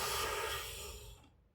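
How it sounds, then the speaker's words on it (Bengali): A patient with COPD takes a breathing exercise inhale: a close, airy breath drawn steadily for about a second, then tapering off into quiet. "তারপর শ্বাস নেবেন"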